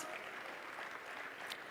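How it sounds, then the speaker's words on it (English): Audience applause at a national conversation launch event held by the Kenyan president, a continuous, fairly faint patter of many hands clapping without a break. "give her a round of applause"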